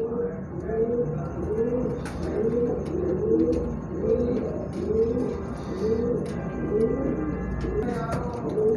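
A female pigeon coos close by in a steady run of soft, rolling, repeated phrases, each swelling and falling in an even rhythm, with faint background ticks.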